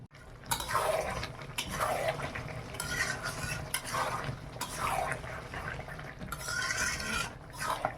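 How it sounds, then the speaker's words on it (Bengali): Chicken curry sautéing in a pan is stirred in repeated scraping strokes, with bursts of sizzle and clattering spoon-on-metal in an uneven rhythm, close and moderately loud, with no speech. "খুব সুন্দর কষানো হয়ে গেছে, দেখুন মাংস থেকে এবার তেল ছেড়ে গেছে"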